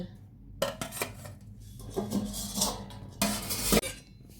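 Covered dishes of cooked food being opened one by one, giving several sharp, close metallic clinks and clatters of lids and pots with quiet pauses between.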